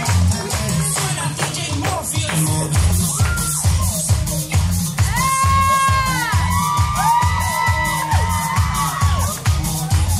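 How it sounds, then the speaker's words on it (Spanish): A quinceañera party crowd cheers, whoops and claps as guests are introduced, over loud pounding dance music with a heavy, steady bass beat. "Que se escuchen los aplausos."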